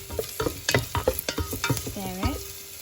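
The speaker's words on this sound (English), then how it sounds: "Next, the garlic. Stir it again." Garlic and bay leaves stirred in a frying pan for a stir-fried long bean adobo: a run of close, uneven scrapes and knocks of a utensil against the pan, ending in a squeaky drawn-out scrape, over a faint sizzle.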